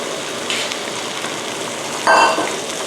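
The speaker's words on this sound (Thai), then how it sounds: "นี้ก็ผัดนะคะให้เข้ากัน" Pork neck stir-fried with sugar in a pan, a steady soft sizzle with a few scraping stirs and a brighter clatter of the utensil against the pan near the end, no voice heard.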